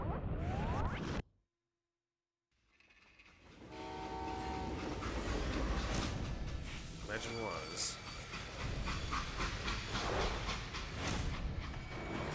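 A moving train in a Western-themed video game rolls along with steady clickety-clack rumble and a horn or whistle blast, loud and continuous after a brief silent gap, with a voice talking over it.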